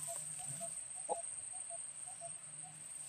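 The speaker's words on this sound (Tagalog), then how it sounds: "Kung naririnig niyo po ang mga ibon na yan" Birds calling in a rural outdoor setting, short faint chirps and calls repeating at intervals over a steady high insect drone, distant and quiet, no talk.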